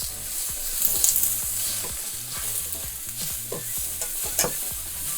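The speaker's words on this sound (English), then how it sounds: "I'm adding my onion to saute that for a minute or two. And now I'm adding my sliced mushrooms." Onions and sliced button mushrooms, shaken with salt, sizzle in a pan while being stirred. A steady close sizzle runs under repeated scraping, clattering strokes of a utensil, and no one speaks.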